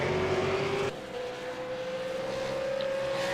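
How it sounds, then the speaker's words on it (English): A V8 Supercar racing at Bathurst, its engine screaming loud and close with a steady high tone that steps down at a gear change and then climbs again as it accelerates. "You can just hear Jake just revving up now."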